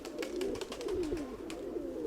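Pigeons coo in a low, rolling, continuous murmur, several birds close by with a faint fluttering background and no voices.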